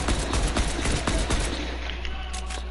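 Rapid Fortnite gunfire rattles off in quick irregular bursts of sharp cracks, loud and close throughout, with no voices.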